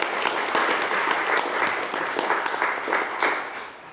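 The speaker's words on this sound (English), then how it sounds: "Let's give you a round of applause." Audience applause at a ceremony marking the Bennington Free Library's 160th anniversary, a steady wash of many hands clapping close by for about four seconds with no voices over it.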